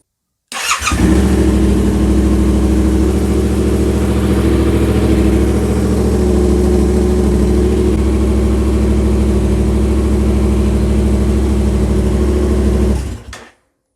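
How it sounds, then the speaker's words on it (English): A Yamaha Tenere 700 motorcycle engine fires up close by and settles into a loud, steady idle with a low rumbling pulse. It runs for about twelve seconds before cutting off, with no talking. "I'm going to start the bike up"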